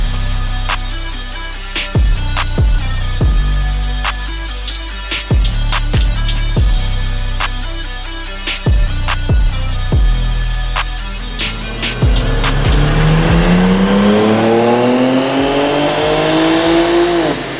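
A BMW S58 engine on a 93-octane tune strains through a loud dyno pull, sharp repeated revs and gear shifts that give way to a long rising howl of acceleration. No one speaks.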